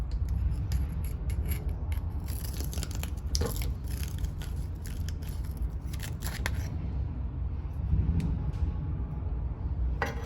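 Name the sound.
tool twisted in welding gun nozzle, scraping out crud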